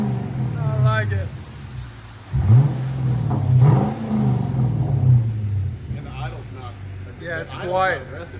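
Two deep, rumbling throttle blips rise and fall from a 2012 Lexus LS 460 4.6L V8 fitted with Dynomax Bullets and no mufflers, loud and near, with people chatting before and after.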